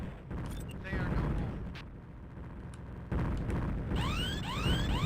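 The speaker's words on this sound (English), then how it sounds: "Those Polaris torpedoes are crazy." Polaris torpedoes detonate in rapid succession during a space battle in Escape Velocity Nova, with booming blasts over a dense rumbling bed and sweeping whistling streaks near the end.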